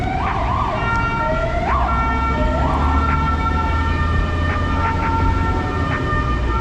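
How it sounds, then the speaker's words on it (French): An emergency vehicle siren wails on a street in Málaga, Spain, its rising and falling tone loud and close over steady traffic rumble, with no talking. "Leurs sirènes sont trop fortes."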